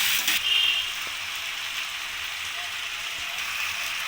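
Chicken stir-fried with spices in a kadai (wok), a steady close sizzling hiss throughout with a few faint scrapes and clinks, no talking.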